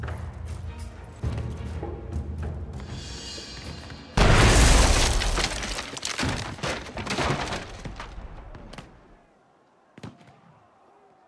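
Cannon fire in the stealth tactics video game Shadow Tactics: a heavy booming blast with crashing, debris-like noise, loud and close, preceded by rumbling game sounds and fading into quieter scattered impacts.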